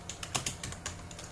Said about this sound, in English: So now I'll type in.